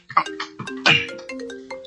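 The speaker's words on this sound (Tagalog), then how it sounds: "Ang cellphone ko. Para sa bag ko. Nagaring." A cellphone rings muffled inside a bag, a repeating electronic melody of bright tonal notes heard alone at moderate loudness.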